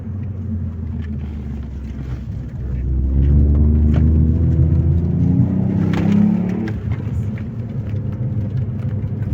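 A Ford Fiesta ST MK8 pulls out of a corner: the engine drone swells and climbs in pitch for a few seconds, heard from inside the car, then eases off into a steady road rumble.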